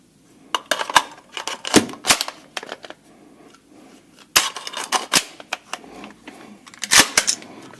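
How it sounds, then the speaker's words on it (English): The magazine release on a 7.62x39 AR-15 is worked, giving a series of sharp metallic clicks and clacks in irregular bursts, close by and with quiet gaps between them. "We'll test our mag release"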